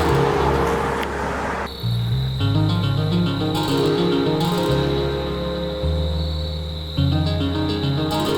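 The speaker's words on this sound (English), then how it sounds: "these cars are coming non-stop" Cars passing on a road beside a bikepacking rider, a steady loud rumble of engines and tires with shifting tones as vehicles go by close, with a faint insect chirp in the background.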